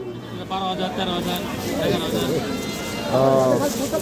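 Goats bleat several times in short wavering calls, one louder near the end, over people talking nearby at the Aricha cattle and goat market.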